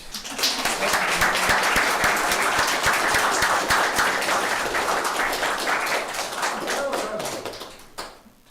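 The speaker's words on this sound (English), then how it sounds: "can we have a round of applause for our new members?" Members of a Sunday worship congregation applaud new members, the sound of many hands clapping at an even, lively pace for several seconds before it thins out and ends in a few scattered claps.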